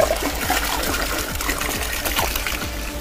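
Sweet and sour mixer poured into a batch of jungle juice: a close, continuous gurgling pour of liquid with bubbly splashes throughout.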